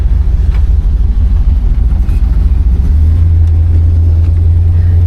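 A 1970 Oldsmobile Cutlass drives at about 30 mph in steady rain, its engine a loud, deep, constant drone from inside the cabin that drops a notch lower partway through, with faint tire and rain hiss above it.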